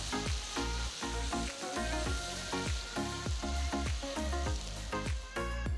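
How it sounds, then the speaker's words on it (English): Vegetables and corn kernels sizzle steadily in a hot pan during stir frying, a loud continuous crackle broken by repeated scraping strokes of stirring, with no talking. "So continue to stir fry these vegetables."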